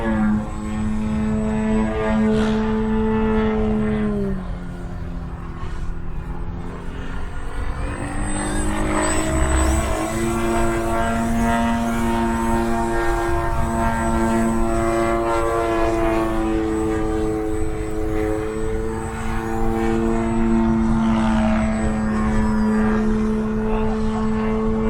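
A UMX WACO RC model airplane hovering with its electric motor and propeller, a loud steady high whine with shifting harmonic tones as throttle varies, continuous and close throughout.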